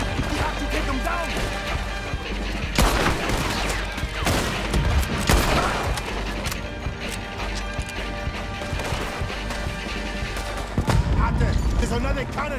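Rapid gunfire and cannon blasts in a Red Dead Redemption 2 tower battle, dense volleys and crashes over a constant loud game din with characters talking at moments.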